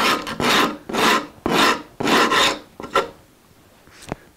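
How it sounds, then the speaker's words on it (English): Eighty-grit sandpaper on a block rasps over the sharp edges of a Martin 00 style acoustic guitar, five loud rhythmic back-and-forth strokes up close, then a couple of lighter scrapes and a tap. "And I've just got 80 grit on a block."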